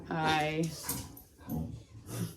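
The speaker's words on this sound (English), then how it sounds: "My dogs think I'm gonna walk them, and so they're making all kinds of noise" Dogs whine and yelp excitedly in a few short bursts, close by, with a brief pause between outbursts.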